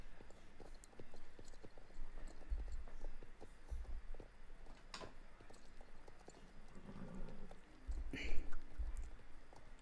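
Horse hooves in the video game Star Stable, soft rhythmic clip-clop steps that are fairly faint and slowing, with a low rumble and a brief chime over the game ambience.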